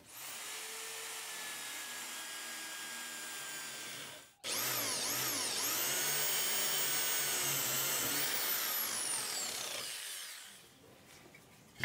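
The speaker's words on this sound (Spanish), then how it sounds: "a hacer un hueco pasante hasta el otro lado y después con la caladora vamos a hacer un dibujo algo así" A power drill bores a hole through a piece of wood for a folding wooden stool, then a jigsaw starts with a high whining buzz that rises and falls as it cuts, close and continuous until it stops.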